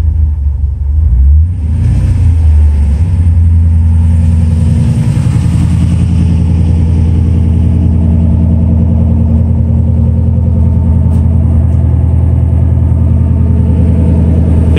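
A Jeep JK's 392 Hemi V8 with custom three-inch true dual exhaust and an X-pipe revs up in a swelling roar, then settles into a loud, steady, raised-RPM rumble close by, with no talk.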